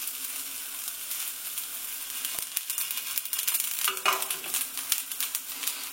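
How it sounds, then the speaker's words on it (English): Food fries and toasts in a pan until crisp, a steady soft sizzle with intermittent scraping stirs and small clicks growing busier toward the end, close and quiet with no talking. "fry it, toast it, until it becomes crisp"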